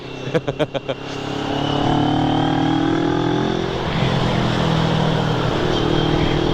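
Sunday road traffic with cars and motorcycles streams past, a steady roar of engines and tires near and loud, opening with a few sharp knocks before the continuous rush takes over.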